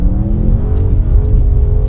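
An Audi RS6 2020 in RS1 manual mode on a snowy Alpine road, its engine pulling hard with a steady droning growl and rising harmonic tone, close and loud with no talk.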